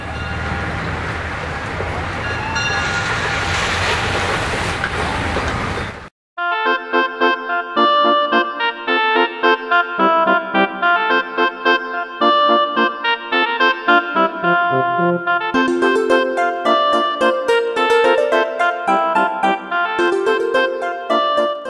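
A classic tram runs in the mountain resort of Campos do Jordão, Brazil, a loud rumbling run that gives way after a brief break to a long stretch of rhythmic, tonal mechanical whine and clatter.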